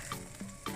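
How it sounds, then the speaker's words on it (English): Pork sausage meat browning in a frying pan, a soft, steady sizzle and crackle heard close up and fairly quietly, with no voices. "Here's my sausage meat, browning very nicely."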